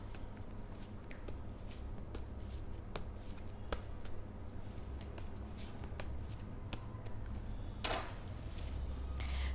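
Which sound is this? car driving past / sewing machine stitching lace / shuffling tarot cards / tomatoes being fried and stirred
shuffling tarot cards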